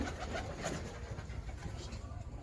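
Pigeons kept for breeding cooing softly in a loft, faint low coos under a constant background hiss, with a few brief taps and rustles.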